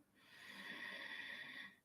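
A single slow, soft inhalation through the mouth during a guided meditation, swelling and fading over about two seconds in a quiet room.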